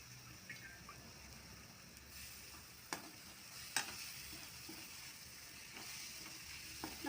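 Dried fish thokku masala sautés in a pan, with soft steady sizzling and a few sharp scraping stirs of a spoon against the metal. The sound is quiet and close, with no talking.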